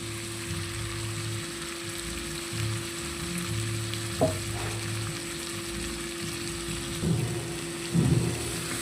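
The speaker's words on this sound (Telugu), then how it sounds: "చూసారు కదా చికెన్ అయితే చక్కగా మగ్గిపోతుంది అనమాట" Butter chicken simmering in a pan gives a steady low sizzle and bubbling with a few soft clinks and brief louder pops, and no talk.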